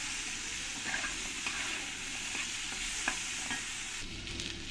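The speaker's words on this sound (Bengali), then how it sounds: "আলুগুলো আমার ভালো করে ভাজা হয়ে গেছে" Potatoes fry in oil in a pan for a paneer masala dish, a steady close sizzle with occasional stirring scrapes and clicks throughout, no talk.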